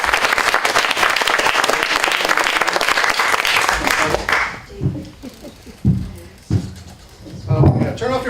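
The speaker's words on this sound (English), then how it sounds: "how about a huge round of applause for Mr." An audience at a storytelling event claps loudly for about four seconds before the applause cuts off, followed by scattered thumps and handling noises with some voices.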